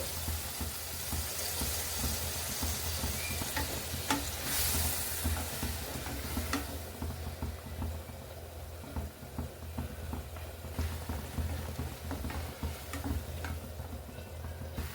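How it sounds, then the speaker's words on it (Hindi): Spiced paneer fries in ghee over a high flame with a steady, dense sizzle throughout, broken by occasional clicks and stirring scrapes. "अब इसको डाल के हमें इसे अच्छे से फ्राई कर लेना है। हाई फ्लेम पर हमें इसे फ्राई करना है"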